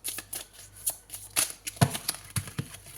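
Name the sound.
drawing a card from a tarot deck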